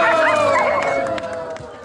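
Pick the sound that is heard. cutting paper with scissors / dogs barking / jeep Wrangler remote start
dogs barking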